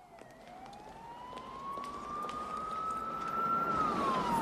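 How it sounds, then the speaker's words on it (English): A police siren wails outside a police station in a film scene, one long rising tone that swells louder as it nears, alone with faint street background. "So the sirens we hear, right, are coming from this scene because they're stepping out of a police station here as well."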